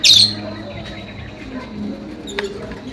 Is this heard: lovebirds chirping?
yes